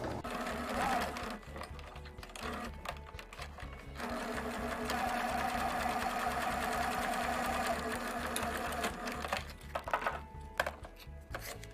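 A sewing machine stitching the edge of a cloth mask, running in steady rapid bursts with brief pauses between runs, close and fairly quiet, without any talking.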